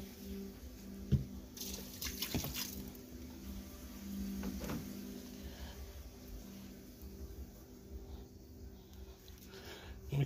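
Water being poured into a bearded dragon's egg-laying box to moisten the substrate, a soft ongoing trickle and splash with a few sharper wet knocks and squishes, fairly close and steady throughout.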